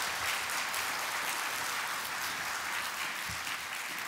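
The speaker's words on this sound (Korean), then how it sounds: "우리 박수로 한번 격려하겠습니다." A church congregation applauds its choir during a Sunday service, a steady, dense wash of clapping that fills the whole stretch at moderate distance without speech.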